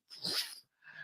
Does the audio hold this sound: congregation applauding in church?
no